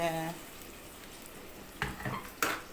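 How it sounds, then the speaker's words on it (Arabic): Tomatoes go into a hot pan for Egyptian koshari sauce, giving a soft, low sizzle with two sharper bursts of frying and stirring near the end, fairly quiet and close. "وهننزل بالطماطم بتاعتنا ونسيبها تتسبك يا جماعه"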